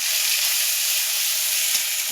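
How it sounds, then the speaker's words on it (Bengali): Ginger garlic spice paste frying in oil for a lau palong shaak dish, a loud, steady, close sizzle with a faint scrape or two of stirring. "মশলাটা ভালো করে কষে নেবো"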